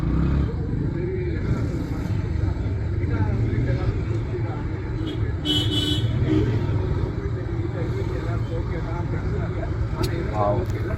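A car engine hums close by through slow Bangalore street traffic as another vehicle approaches, a steady low rumble running throughout with someone speaking over it and a few faint horn toots.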